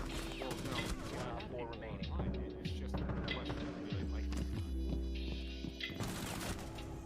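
R4C rifle gunfire in the Rainbow Six Siege video game: several short bursts over a steady electronic hum, sitting under and between bits of talk.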